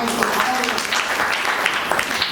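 An audience at a Marathi devotional kirtan discourse claps together, a dense, continuous patter of applause with a voice speaking over it.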